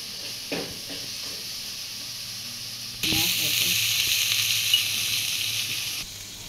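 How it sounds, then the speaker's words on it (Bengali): Crabs dropped into hot oil in a pot, a broad steady sizzle that swells louder midway and keeps hissing close by, with a faint voice early on. "তেল গরম হয়ে গেছে, এখন দিয়ে রাখে কাঁকড়াগুলো দিয়ে দিচ্ছি তেলে। এটা ভালো করে ভেজে নেবে।"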